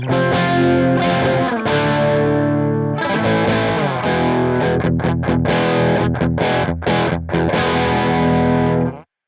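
Heavily distorted electric guitar played through a Two Notes Genome amp simulation: sustained, thick chords ring loud and continuous, then break into choppy, rhythmic stabs with brief gaps before cutting off abruptly.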